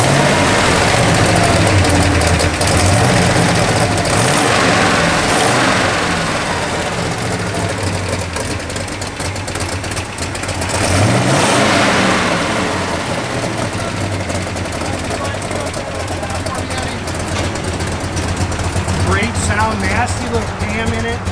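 A 1967 Dodge Dart GT with a lumpy cam idles loudly up close, its low rumble swelling in a couple of revs, with people talking over the engine.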